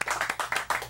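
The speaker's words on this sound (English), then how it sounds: "So once again, big round of applause." A studio audience clapping, brisk rhythmic claps close by in a short burst of applause.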